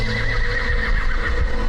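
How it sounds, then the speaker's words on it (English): A horse neighs and whinnies amid clip-clopping hooves in a hot desert, the sound loud, close and continuous for the whole moment. "thinking he heard a horse"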